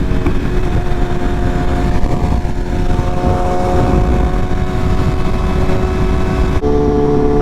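BMW S1000RR sport motorcycle cruising through New York City in mid-winter, a steady, loud engine drone and rushing road and wind noise continuing without a break, with a brief shift near the end.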